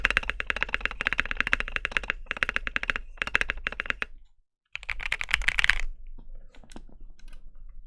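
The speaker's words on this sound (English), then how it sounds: "This is the spacebar from Finicky Blacklight. So this is the MT3 keycap." Rapid, steady clacking of typing on a mechanical keyboard fitted with tall-profile MT3 keycaps, close and fairly loud, with a brief pause near the middle before the keystrokes resume.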